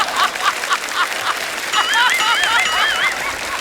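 A voice imitates an anar, the fountain firecracker of Diwali, with a rising, wavering whistling hiss, loud and close, following a stretch of crowd noise and laughter from a comedy show audience.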